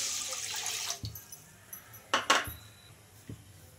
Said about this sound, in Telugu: ఒక బౌల్ అయితే తీసుకొని అందులోకి 1 కప్పు వాటర్ అయితే